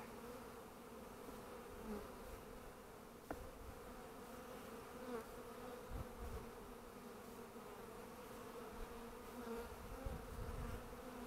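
Honeybees at a Warré hive during supering, a dense continuous buzzing swarm hum, fairly faint but steady throughout, with a few soft knocks and handling bumps.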